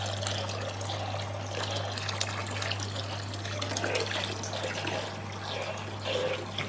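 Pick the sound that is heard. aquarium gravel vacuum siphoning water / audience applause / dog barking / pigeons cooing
aquarium gravel vacuum siphoning water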